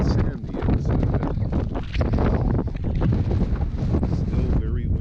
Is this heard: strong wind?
yes